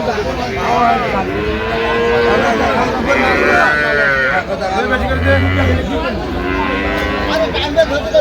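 Sahiwal cows and calves moo repeatedly at the Aftabganj cattle market, loud and close with long drawn-out calls overlapping, while people talk nearby amid market bustle.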